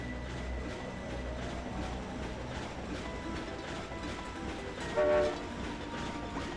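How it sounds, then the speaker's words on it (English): Train in a Ratchet and Clank video game level: a steady mechanical rumble of a moving train runs throughout, with a short, louder horn-like tone near the end. "Absolutely stinky trains."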